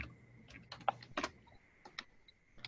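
Calculator keys are pressed to enter a series of decimal numbers, giving quiet irregular taps and clicks in short bursts with brief pauses between them.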